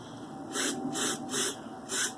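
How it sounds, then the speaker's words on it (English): Four short, close hissing spritzes of cleaner spray on a modern carburetor, evenly spaced and each lasting a fraction of a second over a quiet background. "Little spritz of cleaner."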